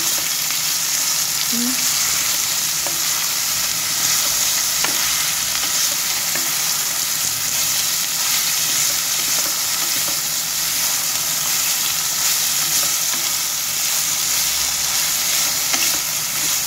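Sliced bitter gourd (karela) sizzling steadily in a hot pan with occasional stirring scrapes, a continuous close frying hiss.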